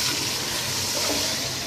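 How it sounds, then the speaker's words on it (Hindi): Water poured into a pot of rice for chicken pulao makes a steady, rushing splash that runs evenly for the whole short stretch, close and moderately loud. "ये देखिए, अब ये हम इसमें डाल देंगे पानी को।"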